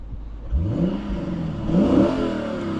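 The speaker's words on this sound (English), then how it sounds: "Let's rev it up." A 2016 Lexus GS F engine is revved from inside the car, climbing in two rising surges with a throaty growl, loud and close, with no one speaking.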